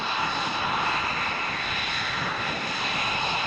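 An F-22 Raptor fighter jet climbing out after takeoff at Lakenheath, a steady broad jet-engine roar held at constant loudness, distant and unbroken with no voices.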